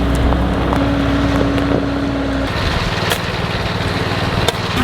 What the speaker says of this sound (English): The wind is so strong here that we have to keep it tarp over the sand